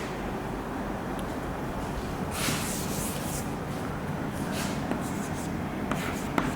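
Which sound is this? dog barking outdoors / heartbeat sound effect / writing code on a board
writing code on a board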